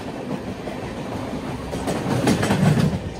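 The Shatabdi Express runs past on the line near Krishna Canal Junction toward Chennai, its rolling rumble and rhythmic clickety-clack swelling louder and closer toward the end, with no voices.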